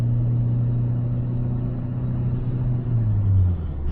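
A first-generation Renault Laguna with a naturally aspirated engine pulls uphill in fourth gear on a night drive, giving a loud, steady low drone from inside the car whose pitch edges upward near the end, with no talk.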